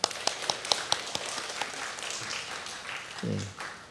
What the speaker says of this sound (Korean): 다 같이 박수 한번 할까요?